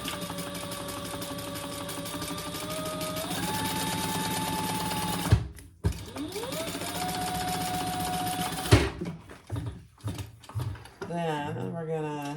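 A sewing machine stitches a seam for a bag in long, steady whirring runs that speed up partway through, broken by brief stops and clunks, then short, uneven bursts and handling noises toward the end.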